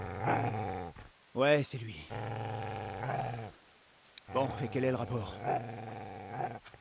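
The butcher's dog guarding a body in Kingdom Come: Deliverance growls low and steadily between lines of spoken dialogue, with a sharper yelp-like burst in the middle.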